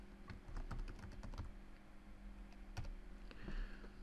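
Password being typed on a computer keyboard, quick irregular clusters of close key taps with a short pause in the middle, over a low steady hum.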